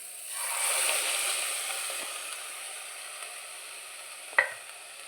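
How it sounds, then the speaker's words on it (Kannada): Ground masala paste for Bhutai Pulimunchi, a sardine curry, sizzling and frying in a hot pan, a soft steady hiss that swells briefly then settles, with a faint clink of a spoon near the end. "ರುಬ್ಬಿಟ್ಟ ಮಸಾಲೆಯನ್ನು ಹಾಕ್ತಿದ್ದೇನೆ."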